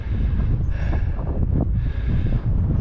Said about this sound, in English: Very windy at top